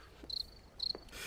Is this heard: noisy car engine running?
no